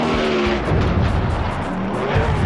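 Drag racing boats with engines tuned to about 7,000 horsepower, roaring loudly and steadily at high speed on the water with no talk.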